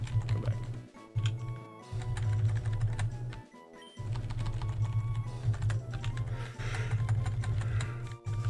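Rapid clattering keystrokes on a computer keyboard run almost continuously, broken by a few short pauses, close and clear with no talking.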